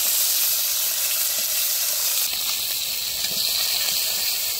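Fish frying in hot oil give off a loud, constant, broad hiss of sizzling that holds steady throughout with little variation.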